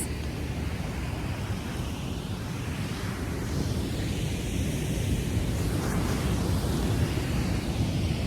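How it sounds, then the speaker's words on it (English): Ocean surf at El Paredon on Guatemala's Pacific coast rolls in as a steady, loud broadband wash with wind across the microphone, swelling slightly toward the end, with no voices. "So I'm here in El Perelon in Guatemala, looking into the waves."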